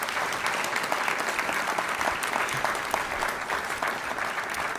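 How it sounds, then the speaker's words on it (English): Steady applause fills a hall after the Philadelphia mayor's call to cheer the 76ers, with dense clapping holding at an even level throughout and no speech over it. "Give our Sixers a round of applause."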